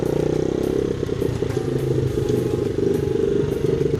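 A dirt bike engine running inside a garage, loud and close with a rough, clattering idle that stays steady and sputters slightly as it runs.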